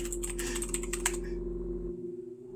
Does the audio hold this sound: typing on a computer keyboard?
yes